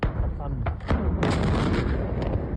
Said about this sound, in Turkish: Alevlerin Yunan Hava Kuvvetleri'ne bağlı bir üsse sıçramasıyla büyük patlamalar meydana geldi